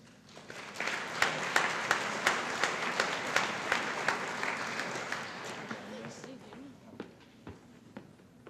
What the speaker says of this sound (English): Ladies and gentlemen, let's give these sophomores a round of applause